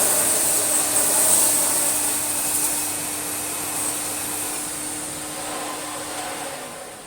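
A 2,200-watt vacuum cleaner runs steadily at close range, a loud continuous whine with a bright high hiss, holding level throughout with no talk.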